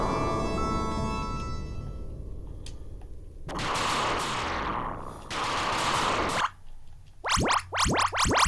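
Retro Contra game audio carries synthetic bursts of explosions and rapid gunfire, long roaring blasts followed by a quick series of sharp descending zaps, loud and continuous with no speech.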